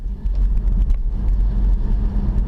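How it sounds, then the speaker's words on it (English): A BMW i3 94Ah electric car drives along with a low, steady rumble of road and tire noise and a faint motor hum, no talking. "let's go and drive the car a bit more"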